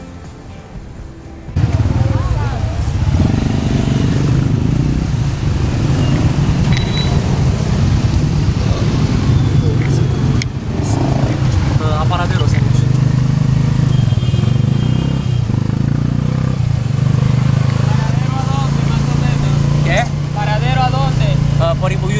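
Busy street engine noise with motorcycle taxis rumbling steadily close by, rising and falling as they pass, mixed with clatter and ongoing voices throughout.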